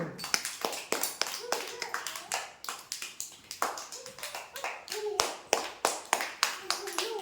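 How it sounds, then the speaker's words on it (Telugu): Sharp, rhythmic group clapping from children during an anganwadi hopping game, steady and close for several seconds, with faint voices now and then between the claps. "కొట్టండి క్లాప్స్."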